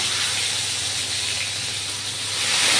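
Coriander leaves and tomato hit a hot pan already fragrant with nigella seeds for a spicy sea-fish curry, producing a steady, loud, continuous sizzle and hiss that swells slightly at the end, with no talking.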